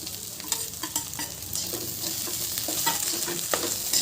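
Fried potatoes tossed into a pan of okra, onion and garlic, with steady sizzling and a spoon scraping and stirring in repeated strokes, close and fairly loud throughout.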